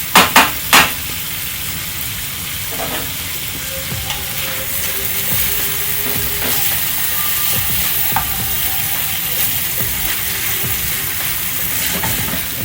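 Lamb shanks coated in marinade and spices sear in a hot pan for rogan josh, giving a steady loud sizzle with a few sharp clatters of a utensil at the start and occasional stirring scrapes.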